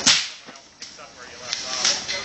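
A bullwhip cracks sharply at a target, one loud snap at the start followed by fainter swishes and smaller cracks, heard fairly close with no talking.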